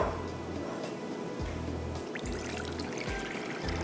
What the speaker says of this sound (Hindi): एक बॉल ले लेती हूँ जिसके अंदर हम पानी डालेंगे।